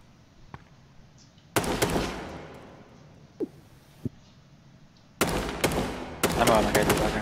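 Gunfire in the video game DayZ: a few isolated distant shots, then loud sharp bursts with ringing decay, another quiet pair of shots, and a final rapid cluster of close reports.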